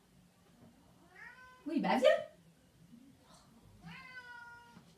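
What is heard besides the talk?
cat meowing while trying to come in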